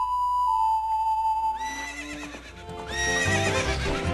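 Epona, the horse from the video game Ocarina of Time, whinnies with loud, bright, quavering neighs after a steady held tone, with game music and effects layered underneath.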